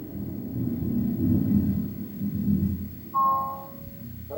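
Thunder from a storm on a Jurassic Park tour rolls low and steady, with a long distant rumble and a brief tonal sound near the end.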